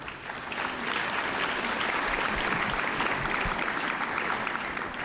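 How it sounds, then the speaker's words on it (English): Conference audience applauds a panel of heads of state at a festival, a full, sustained round of clapping from a large crowd, steady and even from start to finish with no talking. "We give a big round of applause to the excellencies."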